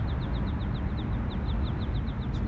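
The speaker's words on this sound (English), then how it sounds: "Some beautiful sounds of the birds as well." Small birds chirp in a quick, regular series of short calls over a steady low rumble of background noise, on a morning at Sydney Airport.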